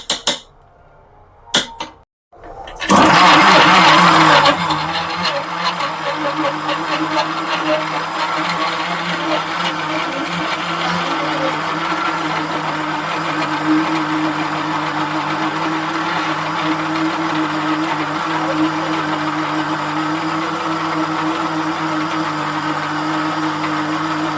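A few brief clicks and knocks come first, then a mixer grinder starts up and blends biscuits for a Sharjah shake, a loud, steady motor whir that runs for about twenty seconds without pause.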